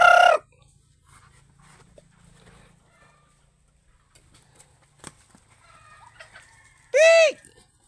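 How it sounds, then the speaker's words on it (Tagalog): Chickens and ducks on a farm: short loud calls open and close the scene, with faint scattered clucks and quacks in the quiet between. "Yung manok at pato."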